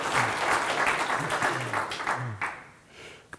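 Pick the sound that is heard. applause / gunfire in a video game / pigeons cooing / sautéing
applause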